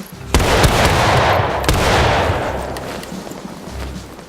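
A musket volley fires in the Civil War game War of Rights, a loud, near burst of overlapping gunshots that rolls into a ragged crackle of scattered late shots and fading echo.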